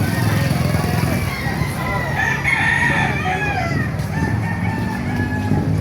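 A Lemon Hatch gamefowl rooster crows loudly and close by, a drawn-out call heard amid other fowl clucking and a busy outdoor market din with people talking.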